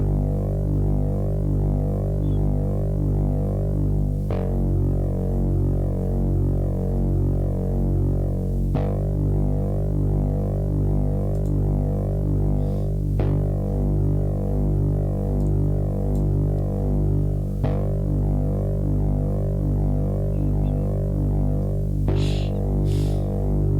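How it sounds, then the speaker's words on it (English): Deep, sustained bass line from a Newfangled Audio Pendulate monophonic synthesizer, droning loud and steady throughout with a dense low end and occasional bright transient accents over about twenty-four seconds, no talking. "I wanted a really, really deep bass line."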